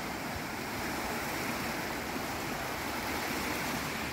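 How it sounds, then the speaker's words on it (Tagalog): Steady roar of ocean waves breaking near Wafu Waterfalls, a constant wash of surf noise filling the whole clip with no distinct crashes, fairly loud and unbroken, with no voices. "Hindi na masyado malakas yung hampas ng ano ng alon"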